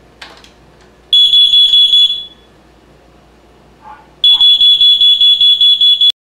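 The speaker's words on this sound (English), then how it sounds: "You should have smoke alarms strategically placed throughout your home." A smoke alarm under test in a home gives two runs of loud, piercing, rapid beeps, a short burst near the start and a longer steady volley at the end, separated by a quieter gap of low room noise.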